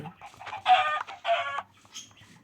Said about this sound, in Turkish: Dur Tavuklar doğuyor lan.